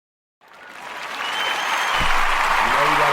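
Audience applause rising after a talk-show interview wraps up, starting from silence and swelling into steady, fairly loud clapping with a brief low thump partway through.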